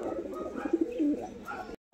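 Pigeons, a Green Eyes hen and a Golden Eyes black-spotted cock, give a short low coo close by in a quiet setting, cut off by a brief moment of silence.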